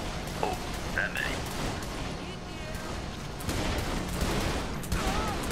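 Gunfire from a slow-firing gun in the video game Saints Row: The Third, a rough run of shots over a dense, noisy game soundscape.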